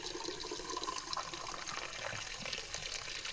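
Stream water splashing and pouring steadily close by during an outdoor bath in a rural Lao forest setting, a continuous bright watery rush with no talk.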